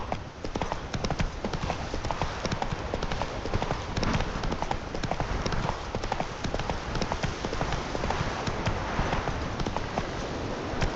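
Horse galloping in The Witcher 3: Wild Hunt, a dense, rapid, continuous clip-clop of hooves that stays loud and close throughout, with a steady rain-like wash underneath.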